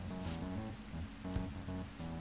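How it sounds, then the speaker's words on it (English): Rain falls steadily in the video game Persona 5, a soft continuous hiss of drops on surfaces mixed low under tonal game music that pulses in short repeating phrases. "Still raining, huh?"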